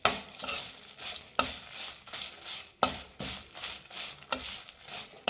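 Bisi bele bath spice ingredients, including Byadagi red chillies, fry on a low flame while a spoon scrapes and stirs the pan in regular strokes about every second and a half, with faint sizzling beneath.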